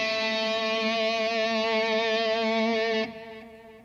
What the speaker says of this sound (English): what you can do is you can make this small movement with your joystick or pitch wheel